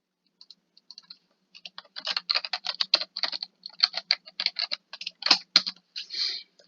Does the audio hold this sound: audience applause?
no